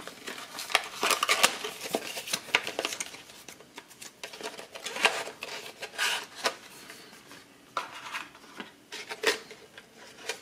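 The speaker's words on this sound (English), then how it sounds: "Just gonna cut open this box and get to our hard drive." A blade cuts open a cardboard box holding a Samsung 1TB solid-state drive, making close scraping, rasping slices and rustles in uneven bursts with short pauses between.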